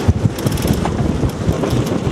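Strong wind buffeting the microphone while a sailboat docks under sail, gusty low rumbling close up with irregular thumps, no voices.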